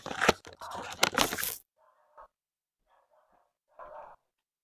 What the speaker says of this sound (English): I don't know if you guys can hear my dogs